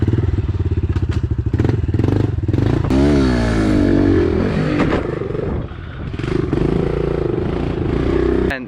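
Dirt bike engine revving hard up close, a loud buzzing two-stroke-style drone that climbs and falls in pitch with throttle blips, plus clattering thumps as it moves off during a BB gun game.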